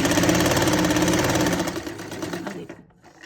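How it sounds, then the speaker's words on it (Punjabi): A sewing machine runs fast and steady while stitching the neckline of a lined shirt, a close, loud mechanical whir that slows and fades out near the end. "ਸੂਈ ਅੰਦਰ ਰੱਖ ਕੇ ਫੇਰ ਆਪਾਂ ਨਾ ਮਸ਼ੀਨ ਘੁਮਾਉਣੀ"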